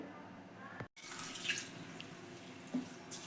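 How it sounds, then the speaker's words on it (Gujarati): Running tap water splashes into a vessel as rice and lentils are rinsed by hand, with swishing and sloshing close by. "આપણે હવે આને ચોખ્ખા પાણીથી ધોઈ લઈશું"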